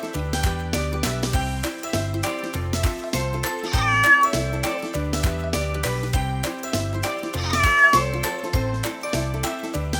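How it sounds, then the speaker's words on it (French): A cat meows over a steady, rhythmic children's music backing track, with its calls rising clearly above the beat at a couple of points. "Que fait un chat?"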